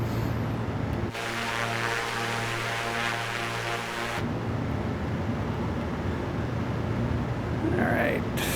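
Simulated A2A Aerostar 600 twin-engine plane on approach to landing in Microsoft Flight Simulator 2024, a steady engine drone with a loud, buzzing tonal section in the middle, then continuing rumble.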